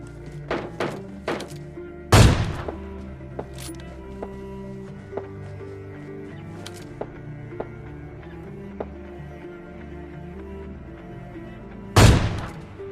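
Gunfire in a squad battle-royale shooter game: two heavy booming shots about ten seconds apart, with faint scattered clicks and game ambience between them.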